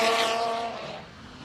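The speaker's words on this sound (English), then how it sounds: "it is the world's greatest sounding engine" Rally car at the TARGA Tasmania road event near George Town roaring past, its engine note high and loud at first then dropping away and fading as it moves off.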